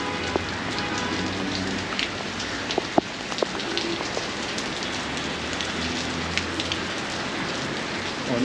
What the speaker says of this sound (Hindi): बारिश फुल तेज